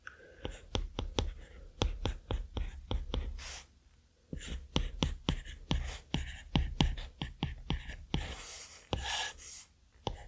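Pencil stylus tapping and scratching on an iPad screen in quick bursts of short strokes and taps, close and soft, with brief pauses and faint breaths between runs.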